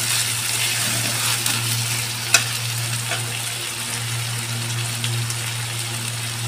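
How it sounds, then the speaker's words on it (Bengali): Chopped tomato sizzling in a pan of frying lote (Bombay duck) fish: a continuous hiss of hot oil over a low steady hum, with one sharp clack of a utensil. "তারপরে আমি টমেটো কুচি দিয়ে দিলাম"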